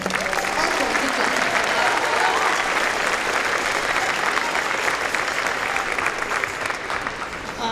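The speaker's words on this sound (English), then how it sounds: "A round of applause, everyone." Steady applause from an audience at a school district band festival, a dense, continuous wash of clapping that holds evenly for the whole stretch and thins only slightly near the end.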